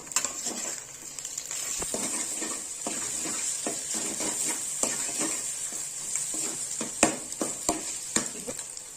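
Egg cooking in a pan for egg noodles is stirred with a utensil, giving a soft steady sizzle under repeated light scraping and tapping clicks against the pan, close and fairly quiet.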